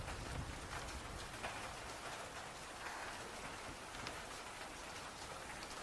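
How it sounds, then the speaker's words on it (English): Soft, continuous rainfall patters on surfaces, a quiet, even wash of drops with a few slightly louder splashes and no voices. "Rain."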